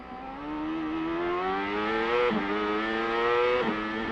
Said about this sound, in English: Listen to Zanardi at work, going through the gearbox.